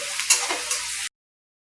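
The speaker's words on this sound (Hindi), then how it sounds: "जब तक हमारा कांदा भून रहा है" Onion frying in a pan for paneer bhurji gives off a short, close sizzle with a few stirring scrapes, then stops abruptly into silence.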